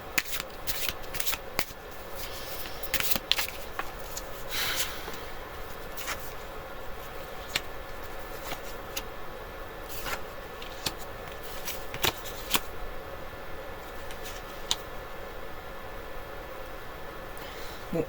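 Playing cards shuffled repeatedly for a tarot-style card reading, a steady papery riffle with crisp flicks and snaps running throughout, close and moderately quiet, with no talking.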